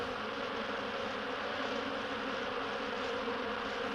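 Continuous insect buzzing from a honeybee chewing its way out of a beeswax-sealed cell in the hive, a steady close drone with no break in loudness and no voices.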